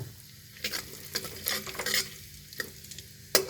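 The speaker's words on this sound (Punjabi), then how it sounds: "ਜੀਰਾ ਤੇ ਹਿੰਗ ਤੜਕ ਗਏ" Cumin and asafoetida crackle and sizzle in hot ghee, with soft popping bursts and a stirring scrape near the end, close and fairly quiet.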